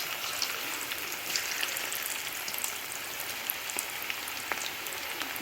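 Onion pakoda batter dropped into hot oil on a low flame, a dense continuous crackling sizzle with scattered sharp pops, close and steady throughout, no talking.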